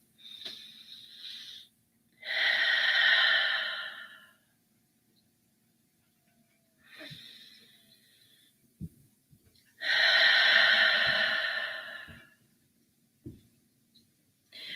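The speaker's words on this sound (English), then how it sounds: "join me for a couple of deep breaths" Deep, slow breaths during a guided morning prayer: two long audible inhales and exhales repeating in a steady rhythm, close to the microphone, with quiet pauses between them.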